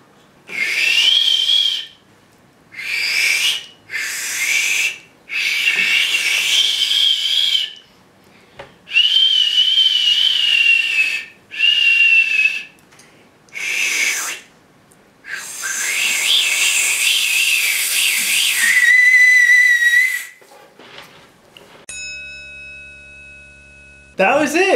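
A person repeatedly attempts loud whistling, producing a series of shrill, wavering whistles of varying length separated by pauses, some stronger and steadier than others, followed by a short synthetic tone at the end.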